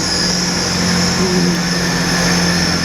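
A GWR Class 802 train rolls into Exeter St Davids station with a steady, loud rumble and a brief wheel squeal, with no talk over it.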